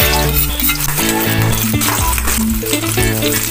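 Onion and garlic sauté in a pan at the start of a spicy chicken adobo with chicken backbone, giving a steady loud sizzle with stirring scrapes throughout, with music playing underneath.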